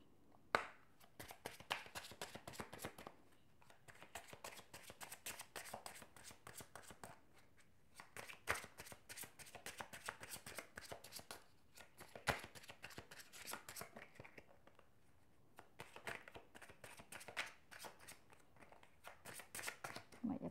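A deck of cards is shuffled in repeated quick riffling bursts with short pauses between, close and fairly quiet.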